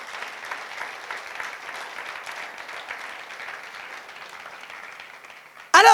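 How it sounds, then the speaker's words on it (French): A church congregation claps for the Lord in a sustained, even patter of applause at moderate distance, ending in a sudden loud burst of voice at the close. "Allez, on va applaudir bien fort notre Seigneur."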